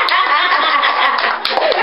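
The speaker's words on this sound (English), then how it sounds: "Clap your hands." A group of people clap their hands loudly and closely in a quick, steady burst, mixed with voices and a bit of laughter, the sound band-limited and slightly muffled.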